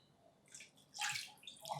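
Two cups of water poured from a measuring cup into a cooking pot make a short, soft splashing pour that swells to a fuller splash near the end.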